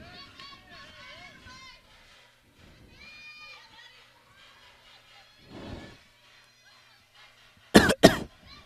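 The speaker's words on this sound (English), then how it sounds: "Developing a light cough in these conditions." A softball commentator speaks quietly, then near the end two sharp, loud coughs burst out in quick succession, close to the listener.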